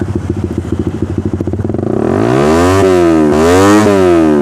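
A Suzuki Satria Fi150 motorcycle with a loud racing exhaust idles with a choppy, lumpy beat, then revs up sharply and holds high, rising and dipping, very close.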